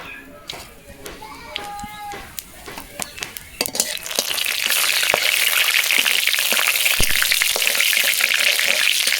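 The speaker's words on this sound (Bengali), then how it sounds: "কড়াইতে আমি তেল গরম করতে দিয়েছি, তার মধ্যে দিয়েছি গোটা জিরে আর গোটা শুকনো লঙ্কা।" Whole cumin seeds and dried red chillies crackle and sizzle in hot oil in a kadai, a steady loud frying hiss that builds after a few clinks and stirring taps, with a voice talking over the start.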